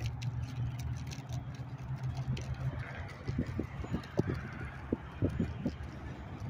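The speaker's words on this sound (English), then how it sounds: "Bird over there stalking." Goose-like bird honking beside Tropicana Avenue in Las Vegas, several short, moderately loud honks in an irregular series over steady passing-traffic and engine noise.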